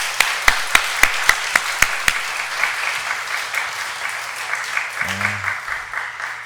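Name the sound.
church congregation applause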